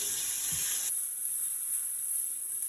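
Onions cooking in a pan for beef gyudon give a steady hiss and sizzle, brighter at first and then a quieter, even frying noise that continues alone throughout.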